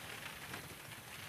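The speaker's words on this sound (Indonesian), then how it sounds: "Cuaca hujan" Steady rain falling at night, a dense continuous hiss of drops on a surface, even and unbroken with no voices.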